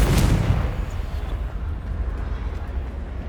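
The Confringo fire spell explodes in Hogwarts Legacy with a loud, booming blast and a rumbling tail that slowly fades over a few seconds.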